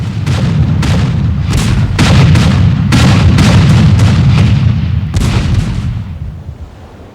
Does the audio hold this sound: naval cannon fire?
yes